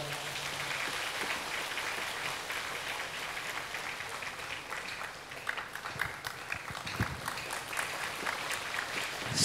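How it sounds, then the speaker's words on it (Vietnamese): A congregation at a Catholic mass for the feast of Saint Martin applauds, a broad rain-like wash of clapping that holds steady and then swells slightly near the end, with no talk over it. "xin cộng đoàn cho một tràng pháo tay"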